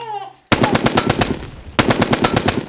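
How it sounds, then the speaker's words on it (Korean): Rapid bursts of machine gun fire ring out loud and close beneath a bridge underpass, two sustained volleys of sharp rhythmic shots separated by a brief pause, following a short tonal passage. "굴다리 속으로 총성이 날아들었다"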